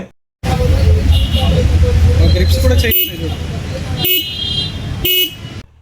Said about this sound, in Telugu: ఒకసారి హార్న్ సౌండ్ కూడా వినండి